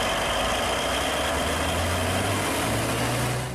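Caterpillar C175 heavy diesel engine, the kind used in mining trucks that haul over 400 tons, running steadily at idle with a loud, continuous low rumble and a faint drifting hum.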